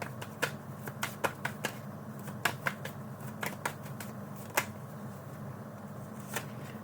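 Tarot cards shuffled and pulled from a deck, a string of crisp, irregular card snaps and flicks, close and fairly quiet over a low background hum, no talking.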